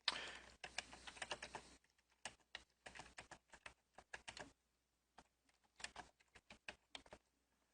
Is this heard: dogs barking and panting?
no